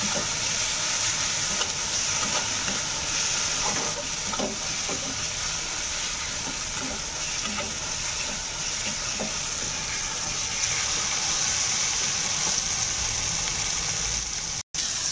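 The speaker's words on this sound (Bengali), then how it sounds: "মশলাটা ভালো করে ভেজে নেব" Spice masala sizzles in hot oil for a long, even stretch, with soft scraping and stirring sounds from a spoon in the pan and no voices over it.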